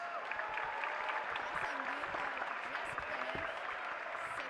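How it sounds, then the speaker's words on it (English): Audience applause at a Rubik's cube championship, the North American Championships after the 6x6 finals, a steady wash of many hands clapping throughout, fairly even and moderately loud with some crowd murmur. "you could hear the crowd just then clapping"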